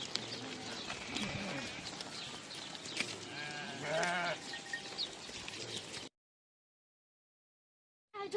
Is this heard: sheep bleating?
yes